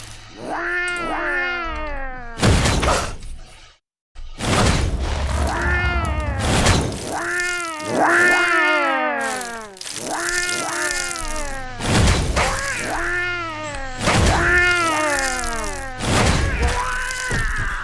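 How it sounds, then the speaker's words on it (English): Repeated yowling cat cries from a growling-cat invasion in the video game Legend of Mir, loud, rising-and-falling calls recurring every second or two almost without pause. "We must hold off the invasion of the growling cats."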